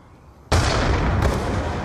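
A grenade detonates in the Black Ops 2 video game: a sudden loud blast after a quiet moment, followed by a sustained rumbling tail and a second sharp burst shortly after.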